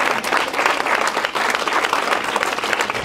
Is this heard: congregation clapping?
yes